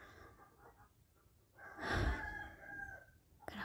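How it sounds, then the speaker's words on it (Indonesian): A rooster crows in a strained, breathy call rising out of low background noise, moderately loud, with a short sharp sound at the end. "Aku kembali mendengar kokokan ayam itu."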